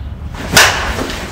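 A Monsta Torch light balanced 22oz softball bat swings and strikes the ball, one sharp loud crack over outdoor background noise.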